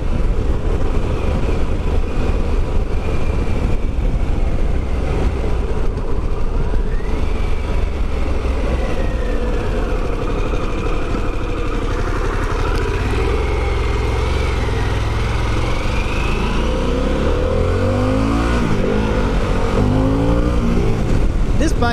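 A Harley-Davidson Pan America motorcycle engine accelerating, loud and continuous with a rising and falling drone and heavy wind rush throughout.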